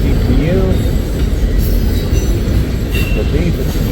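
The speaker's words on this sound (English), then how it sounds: "Here comes our mid-train DPU." A freight train rolls past at close range with its mid-train DPU locomotive, giving a steady, loud rumble of wheels and cars with faint squeals and clanks throughout, no talk.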